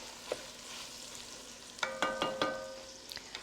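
Chopped yellow onions cooking in a pot for Dublin coddle: a near-silent stretch, then a quick cluster of four or five ringing metallic scrapes and clinks against the pot, with faint sizzle beneath.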